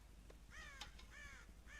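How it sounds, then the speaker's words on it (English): Crows in the video game Red Dead Redemption caw in a quick series of harsh, clear calls, moderately loud and alone without talk. "God damn crows!"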